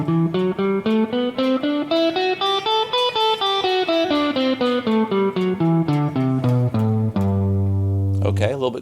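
Guitar scale played slowly, one evenly spaced note after another climbing then descending, close and clear, finishing on a longer held low note followed by a short scrape.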